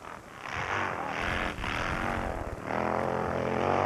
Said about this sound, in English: You can hear the horsepower of the bike